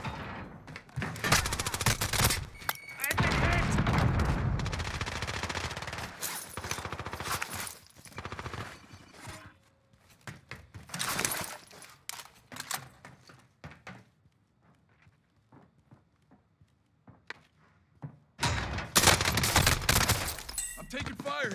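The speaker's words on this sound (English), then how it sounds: "I'm taking fire here." Gunfire in the video game Call of Duty Warzone: loud bursts of automatic fire and rapid shots in dense clusters, with quieter sporadic pops in between and a person talking over the action.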